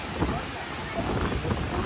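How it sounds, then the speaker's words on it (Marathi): A strong, stormy wind blows at the Chinchani yatra fair, making a steady broadband roar with gusty swells that buffet the microphone, loud and close. "बघा वारा किती आहे बघा."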